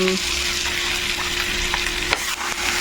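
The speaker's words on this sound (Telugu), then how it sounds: "ఇప్పుడు చికెన్ వేసేస్తుంది ఓకే చికెన్ కూడా వేసేసుకుంటున్నాం" Chicken frying in a hot pan for a chicken fry with ginger, a loud close continuous sizzle broken by a few sharp crackles and spatters, with no one speaking.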